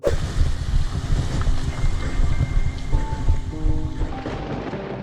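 A heavy thunderstorm on the way to Badrinath, with loud rain hissing and drumming steadily and deep thunder rumbling underneath throughout, with no voices heard.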